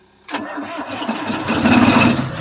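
An engine cranks and catches after a brief quiet moment, then settles into a steady, rising running rumble nearby.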